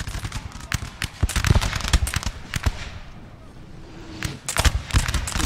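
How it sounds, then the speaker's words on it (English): Artillery fire in the Napoleon Total War multiplayer battle between France and Russia, a rapid irregular series of sharp booms and cracks, some close and loud, with a brief lull before another burst. "Just a few artillery shots going in"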